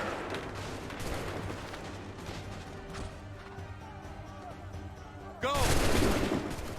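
Musket volleys and battlefield gunfire in the Assassin's Creed 3 video game, dense cracking shots and crashes rolling throughout, swelling into a loud burst near the end, with shouted commands over the fighting.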